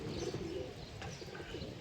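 A pigeon coos nearby in a few soft, low rolling notes over a steady background hiss, with no talking.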